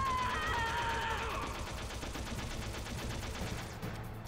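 Rapid, steady gunfire in Metal Gear Solid, dense repeated shots in an even rhythm over a low rumbling background, with a brief electronic tone sounding at the start.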